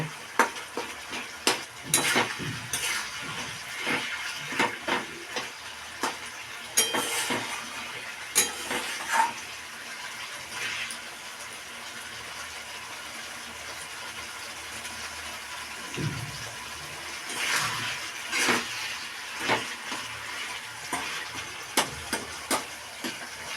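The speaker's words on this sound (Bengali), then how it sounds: "এটা মশলা কষানো হচ্ছে" Spices frying and being stirred in a pan for egg curry, a soft continuous sizzle punctuated by repeated scraping and clinking strokes of a spatula, close and fairly quiet.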